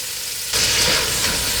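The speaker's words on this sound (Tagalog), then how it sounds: "So itutuloy lang natin ang pag-isa dito hanggang sa mag-light brown na yung kulay ng pork." Pork sautés in a pan until light brown, a soft sizzle that suddenly swells into a louder, steady hiss about halfway through, close and continuous, with no talk.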